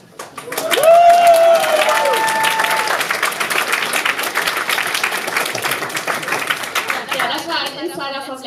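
Audience at a Jugend hackt Berlin 2017 youth event bursts into sustained applause, dense clapping swelling quickly and holding steady for several seconds, with a cheer or whistle early on and a voice speaking over the clapping near the end.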